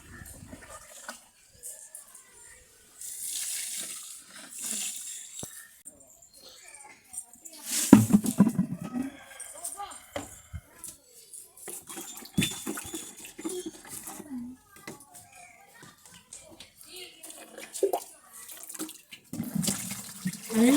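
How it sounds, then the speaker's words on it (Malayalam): Water sloshes, splashes and pours in irregular bursts as it is stirred in a container and tipped onto plants, with louder gushes around the middle and quiet gaps between. "ഞാൻ എല്ലാം അങ്ങ് വെള്ളത്തിലൂടെ അങ്ങ് കലക്കി അങ്ങ് ഒഴിച്ചു കൊടുക്കും"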